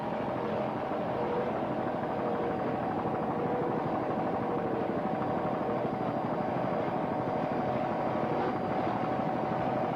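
Engines on a Blackjack race team offshore racing powerboat run at full throttle, a steady, dense roar held at constant loudness for the whole stretch, heard from nearby without breaks.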